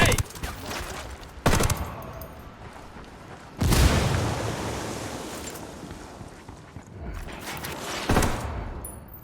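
Grenade blasts and gunfire in Ghost Recon Wildlands: several loud, sharp bursts, each rolling off into a long rumbling decay, with a big boom near the middle and a quick double hit near the end.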